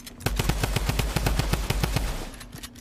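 Rapid automatic gunfire from the video game Fortnite, a steady burst of a dozen or so loud evenly spaced shots over a low continuous hum, ending with a brief tail.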